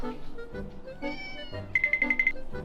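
A kitten of a Thai mother and a probably Persian father meows, a few short mews followed by a quicker trilling call, close by amid faint household noise and with no talking.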